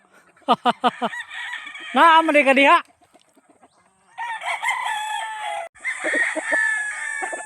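A large rooster of a sweeter bloodline crows repeatedly on a clean hillside farm overlooking the sea, its loud calls near and overlapping with other clucking fowl, with a voice briefly speaking.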